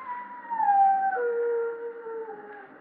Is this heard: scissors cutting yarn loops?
no